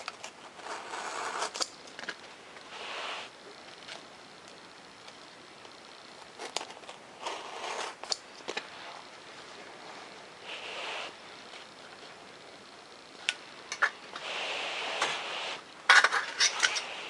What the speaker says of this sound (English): you're going to want to put your razor knife at a pretty good angle when you cut into these